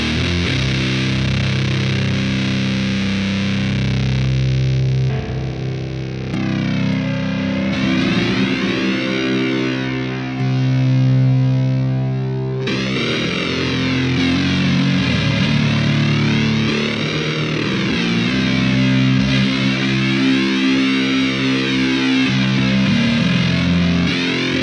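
Heavily distorted, doomy electric guitar tone through an STL Tonality amp plugin, playing sustained low riffs with chorus-like swirling modulation, loud and continuous with no voices.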